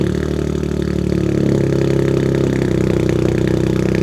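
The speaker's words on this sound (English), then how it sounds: "Let's go ahead and start it up, and we're gonna open and close the exhaust for you guys just to see what kind of noises we can get out of this thing." A Toyota GR Corolla with an aftermarket exhaust, valve closed, starts and settles into a loud, steady rumbling idle close by, with a slight rise in level after the first second and no talk.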